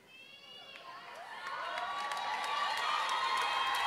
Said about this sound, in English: One more round of applause for everyone on stage right now